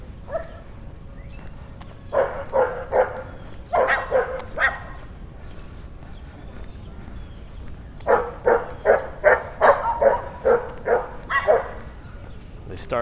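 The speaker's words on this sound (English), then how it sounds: "The dog has some things to say." A dog barks repeatedly on a New York City street, loud, close volleys of sharp barks in two long bursts with a pause between, over low street noise.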